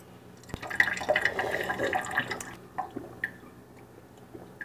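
Water pours into a container in a steady gurgling stream that stops after a few seconds, followed by faint drips and clinks.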